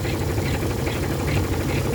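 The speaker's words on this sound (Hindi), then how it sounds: "और देखिए ट्रैक्टर यहाँ चल रहा है भाइयों।" A Farmtrac 45 tractor engine runs steadily outdoors, a loud continuous diesel rumble with a mid-range chug and no pauses.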